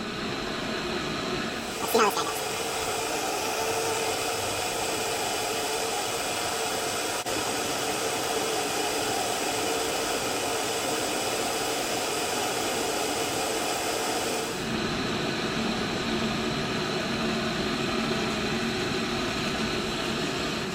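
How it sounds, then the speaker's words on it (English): An MSR Pocket Rocket Deluxe camping stove burns with a steady, close roar of gas flame that runs the whole time, briefly interrupted by a clink, and a person talks over it. "Already I can tell that the stove burns quieter than the Pocket Rocket."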